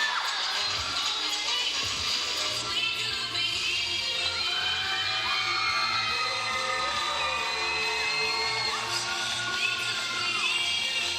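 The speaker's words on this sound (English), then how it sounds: "The crowd is loving it." A crowd cheers and shouts at a cheer and dance championship, a steady, loud wash of voices with high whoops and excited calls that keeps going without a break.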